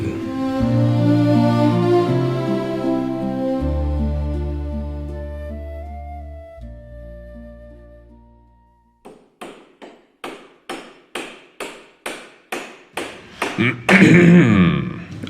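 Hammering on a wooden table being built on a church stage during a Christmas play, a run of about a dozen evenly spaced sharp knocks following sustained music, ending in a louder burst.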